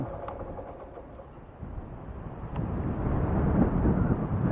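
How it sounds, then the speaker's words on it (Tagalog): Strong wind buffeting the microphone on a motorcycle ride to Garang Hill in Maasin, Iloilo, Philippines, a steady loud roar that swells louder toward the end, with no voices. "Ang lakas nga lang ng hangin."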